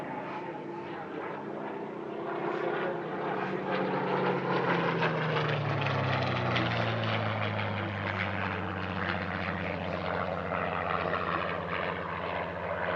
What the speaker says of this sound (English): The second Spitfire is this PR-19.